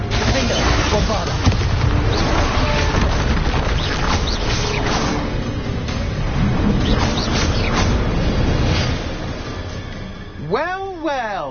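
Bombarda spell explosions from combat in the video game Hogwarts Legacy: dense, repeated booms and crashes pile up almost continuously at close range, mixed with voices and other game effects.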